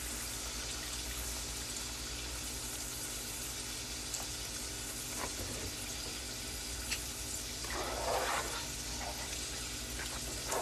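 Full cream milk is poured into a hot cooking pan, giving a steady hissing sizzle and watery gurgle that continues throughout, with soft bubbling bursts toward the end.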